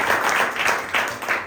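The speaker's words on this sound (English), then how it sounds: "Big round of applause" A real-estate meetup audience applauds, a brief dense wash of clapping from many hands, fairly close and steady throughout.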